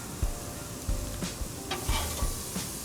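Pork chops sizzle on a grill with a steady frying hiss, while several short clanks and scrapes of a utensil sound as they are flipped over, close up and with no talking.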